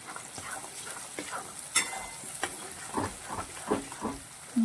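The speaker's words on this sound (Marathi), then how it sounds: "हे सारण बारीक तळून घ्यायचं आहे" Moong dal filling frying in a pan, a steady hiss and sizzle with repeated scraping strokes of a spoon stirring it, close and moderately loud.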